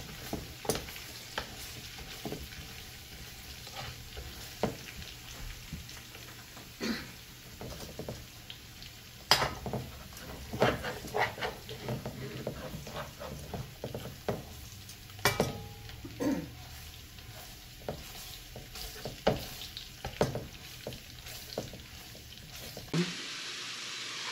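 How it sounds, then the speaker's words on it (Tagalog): Garlic sautés in a pan for home-style Filipino kare-kare, sizzling steadily at close range while a utensil stirs and taps in frequent irregular clacks. "Yan, ginigisa na niya yung bawang."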